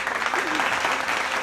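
A studio audience at a televised quiz competition claps in a steady, dense wash of applause, evenly loud throughout the short stretch, with a voice faintly under it.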